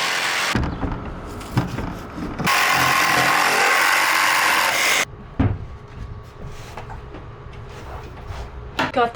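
A power tool cuts a window opening in the metal side of a Sprinter van, a loud continuous rasping stretch of a few seconds between shorter bursts, with occasional voices.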